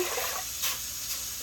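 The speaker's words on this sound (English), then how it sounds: "I'm going to get 2 cans of water" Water pours steadily into a cooking pot from a can while making rice and peas, a continuous close splashing rush with slight surges.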